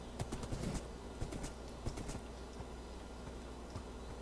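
Horse hooves clip-clopping in Minecraft, set in a Middle-earth world, with a handful of soft irregular steps early on, fading into a low steady background with a few faint later taps.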